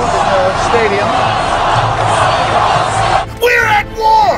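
Stadium crowd at a Ron Paul rally for the 2012 presidential race, roaring and yelling in a dense continuous wall of cheers, with a few louder whoops and shouts breaking through toward the end.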